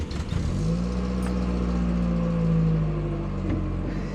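A VW Golf MK3 engine, just after a fuel pump rebuild, catches after a brief crank and settles into a loud, close, steady running rumble that swells slightly midway.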